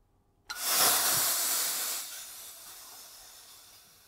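CO2 gas hisses out of a leaking bottle regulator with an improperly seated washer: a sudden loud, steady hiss bursts in near the mic, then eases somewhat and keeps going without any talk.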